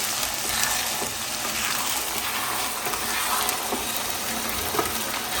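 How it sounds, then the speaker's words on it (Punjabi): A hot tadka sizzles over saag in a kadai, a loud, continuous close crackle and hiss with occasional small pops and no voices. "ਕੜਾਈ ਦੇ ਵਿੱਚ ਸਾਗ ਪਾ ਦਿੱਤਾ ਜੀ ਤੇ ਬਸ ਹੁਣ ਤੜਕਾ ਲੱਗ ਗਿਆ"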